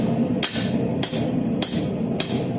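Hammer blows ring on hot metal over an anvil while a dinner bell is forged, four sharp evenly spaced strikes about every half second, loud and close with no talk.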